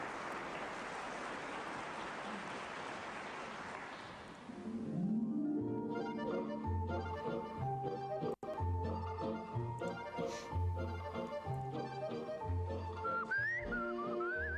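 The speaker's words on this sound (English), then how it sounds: "Whistling." Whistling in a 1957 Eurovision Song Contest performance rises over an orchestral accompaniment with a steady rhythmic beat, following a few seconds of crowd applause.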